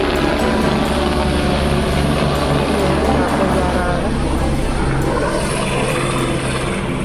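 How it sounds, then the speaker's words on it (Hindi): A helicopter serving the Vaishno Devi yatra near Katra flies nearby, a steady loud rotor drone with a constant low throb that holds evenly throughout. "हेलीकॉप्टर"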